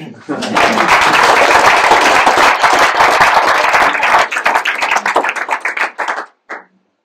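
An audience at a bagad's 30th anniversary celebration breaks into loud applause for a longtime member, dense clapping that thins into scattered separate claps before stopping.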